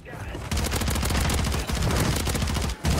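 Dense, sustained automatic gunfire in a video game, rapid overlapping shots filling the clip with only brief breaks.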